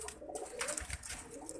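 Soft, low pigeon cooing repeats in short throaty phrases, fairly quiet, with faint background noise and no talking.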